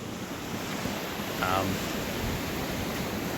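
Ocean waves wash steadily onto a beach in a video game, a broad, constant roar of surf with a faint swell in the middle and no talk over it.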